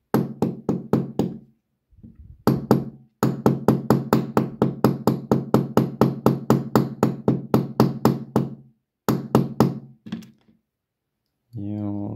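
Rapid, steady hammer blows strike a Tikka T1x rifle bolt, ringing with each hit, close by; a few brief pauses break the run before a short burst of voice at the end.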